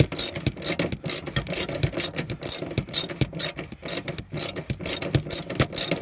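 Rapid, steady clicking of a ratchet wrench backing out a long rear seat bolt with a large washer on a 2016 Subaru WRX STI, close and fairly loud, continuing alone with no talk.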